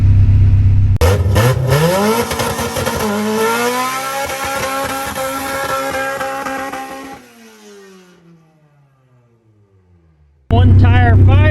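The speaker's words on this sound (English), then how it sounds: "Honda boy, doing the burnout" A Subaru with a Precision 6062 turbo doing a burnout roars loud and close with a rising rev and spinning-tire squeal, then winds down and fades before a sudden roar of revving returns at the end.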